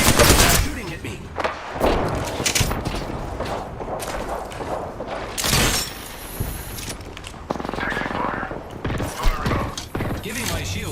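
Enemies open fire in a squad-based shooter video game, with bursts of gunfire, thuds and booms coming in waves at varying distance. A voice talks over much of the action.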